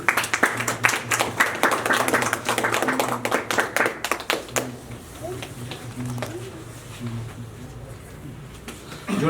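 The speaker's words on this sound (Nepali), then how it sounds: "जोरदार ताली बजाइदिनु होला।" An audience at an evening candlelight vigil applauds, a burst of many hands clapping loudly for several seconds before thinning out into murmuring voices, with someone speaking over a microphone.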